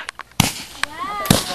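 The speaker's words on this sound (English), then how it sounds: "y'all gonna have to get away from the fireworks set" Fireworks from a backyard fireworks set pop in a quick series of sharp, loud cracks, three main bursts spaced close together with short crackling tails, with a dog nearby.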